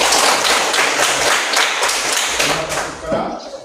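A class of young students clapping hands together in a classroom, loud and close, a dense patter of claps with some louder taps, fading out near the end.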